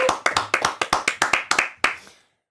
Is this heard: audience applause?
yes